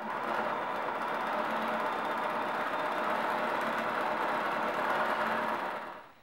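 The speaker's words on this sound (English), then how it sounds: "You're going to sew all the way around." A sewing machine runs a narrow zigzag stitch around the hem of a pencil skirt, a steady continuous whir at close range that holds even for about six seconds before cutting off.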